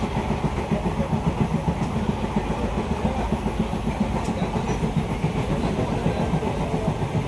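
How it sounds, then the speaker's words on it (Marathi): A summer special passenger train runs from Konkan toward Mumbai, heard from inside the coach as a steady rumble with rhythmic clickety-clack of wheels over rail joints throughout. "Summer special train."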